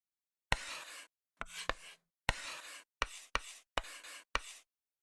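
Someone writes out a math equation, about eight short scratchy strokes in uneven bursts with brief silent gaps between them, close and quiet.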